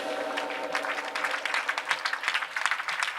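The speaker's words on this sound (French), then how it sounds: "j'aimerais qu'on les ovationne" Church congregation at a ministry conference applauding apostles, a dense ovation of many hands clapping that swells and stays strong throughout, heard from within the hall.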